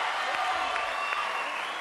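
Short burst of steady applause from a TV studio audience, a dense even wash of clapping held at moderate level for under two seconds, with a voice faintly present.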